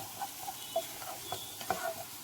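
An egg sizzles gently as it fries in a pan, a soft, low crackle punctuated by several light taps and scrapes of a utensil stirring or turning it.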